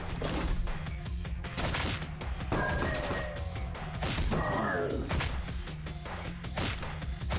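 Rapid gunfire rattles through a violent first-person shooter, dense bursts of shots with crashes and metallic clanks as enemies are hit, loud and continuous throughout.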